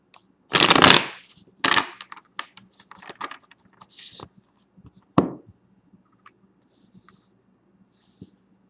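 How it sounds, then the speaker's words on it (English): Several quick riffling bursts of tarot cards being shuffled, the loudest near the start, followed by softer scattered taps and handling sounds. "Let's go ahead and shuffle one more time"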